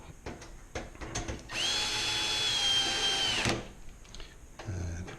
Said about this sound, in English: if you are using a power drill, make sure you've got the torque turned down.